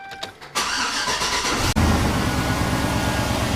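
A 2005 Chevy Tahoe Joe Gibbs Special Edition engine cranks briefly and catches, then settles into a steady, loud, close idle.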